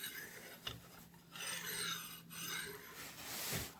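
Hand sanding of a Volvo Penta trim tilt shaft to remove burn marks, a close, continuous abrasive rasp in steady strokes with a few brief pauses.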